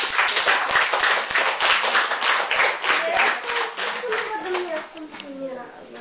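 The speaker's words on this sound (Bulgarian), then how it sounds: "Благодаря ви за аплодисменти" Brisk clapping from a small audience at a Bulgarian foundation event, strong at first then thinning out, with a voice and other chatter rising through the fading applause.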